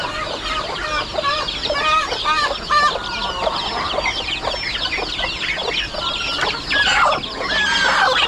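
Mother hen on a farm clucking repeatedly in short rhythmic bursts, with other chickens calling nearby and an occasional higher crow-like cry, fairly close and loud with no talking.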